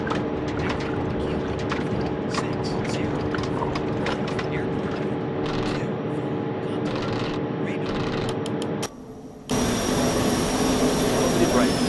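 The jet engines of a Boeing 737-800 in the Real Flight Simulator game roar steadily during takeoff, with light tapping clicks over the top and a brief dip before a brighter surge of engine noise.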